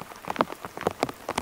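Rain falling in the mountains during car camping in a Subaru, heard as scattered close taps and patters of drops landing on a surface, irregular and fairly faint.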